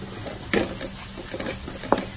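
Coriander and turmeric powder are stirred in a pan for a Kerala-style mango curry, a spoon scraping and tapping twice against the metal over a faint, steady sizzle, close up with no talking.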